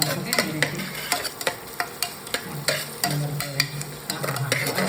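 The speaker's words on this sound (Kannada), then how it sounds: "ನಾವು ವಾಜಿ ಪಲಾವ್ನು ಇವತ್ತು ಟೊಮೊಟೊನೂ ಹಾಕ್ತಾ ಇದ್ದೀವಿ ಓಕೆ ಅದನ್ನು ಚೆನ್ನಾಗಿ ಫ್ರೈ ಮಾಡ್ಕೋಬೇಕು" Vegetable pulao with tomato frying in a pan, a spatula scraping and knocking against the metal in a quick repeated rhythm over a steady sizzle, with no one speaking.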